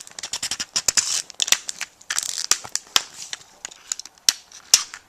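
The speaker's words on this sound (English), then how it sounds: "let's open this up with my craft knife" A large craft knife cuts and pries into the heavy plastic case of a faulty Nintendo DS Phat, making a close, loud run of sharp cracking snaps and scraping clicks in irregular bursts.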